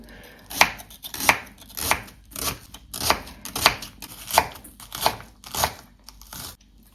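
A knife chops a vegetable into small rounds on a board, about ten crisp, evenly spaced strokes, close and clear, with no voices.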